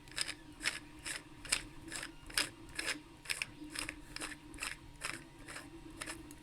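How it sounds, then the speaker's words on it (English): A threaded Korbanth TFU2 / Graflex lightsaber handle being unscrewed, giving a quiet, steady run of about a dozen crisp metallic clicks and scrapes close up, evenly spaced like a ratchet turning. "We just want to unscrew the handle."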